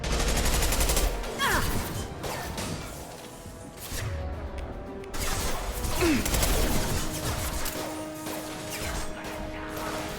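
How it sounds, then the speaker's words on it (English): Concussive shot and gunfire in Mass Effect 2 combat: heavy crashing impacts and rattling bursts of weapon fire over a dense battle din, with mechanical whines and a voice speaking briefly. "Firing concussive shot!"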